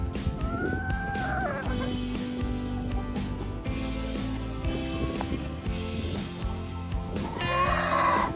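Hens cluck and call in a snowy winter enclosure, with several overlapping bird voices close by against a steady background hum that swells toward the end.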